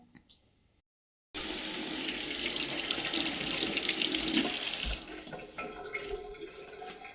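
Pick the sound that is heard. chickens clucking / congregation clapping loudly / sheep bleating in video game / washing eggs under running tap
washing eggs under running tap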